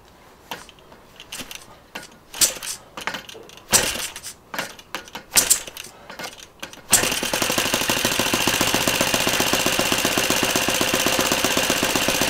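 A Laser 100 engine is run for the first time in 15 years: several seconds of scattered knocks and handling noises, then the engine catches and runs loudly, steadily and rapidly through to the end.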